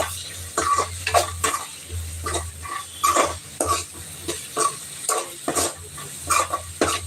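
Tomatoes sautéing in a pan for a squid fry, with repeated scraping stir strokes in a steady rhythm over a constant close sizzle and a low hum underneath.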